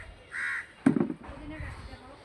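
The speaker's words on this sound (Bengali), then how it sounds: "এই যে দেখেন কতগুলা কাক আসছে এই মুরগির বাচ্চাগুলো নেওয়ার জন্য" Crows cawing from a rooftop garden where chicks are kept, one loud harsh caw standing out between fainter calls, with some speech-like sound alongside.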